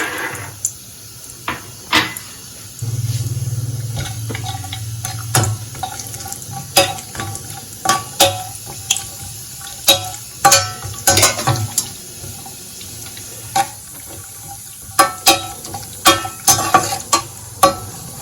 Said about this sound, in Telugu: ఇప్పుడు నెయ్యి వేడెక్కిందండి. ఇందులోకి జీడిపప్పును వేస్తున్నాను.